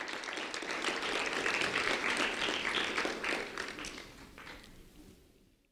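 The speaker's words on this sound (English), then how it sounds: "A round of applause for Kathy Rivera, please." Audience applause for Kathy Rivera, a student honoree at a school recognition event, swells as a dense wash of many clapping hands, holds steady, then fades away toward the end.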